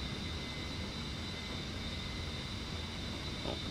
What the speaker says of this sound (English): So there we go, first takeoff in the A-10.